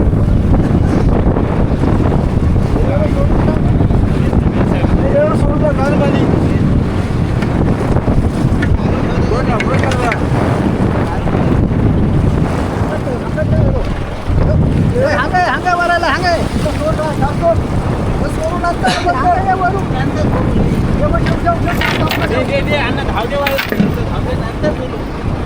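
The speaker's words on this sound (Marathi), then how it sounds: "मोठ्या मोठ्या लाटा पण झाल्या. वादळ पण सुटलं आता आहे." Strong wind buffets a fishing boat at sea during a sudden storm while out pomfret fishing, with loud steady roaring gusts and rushing water from big waves, constant and close throughout.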